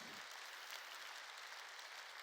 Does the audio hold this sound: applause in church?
yes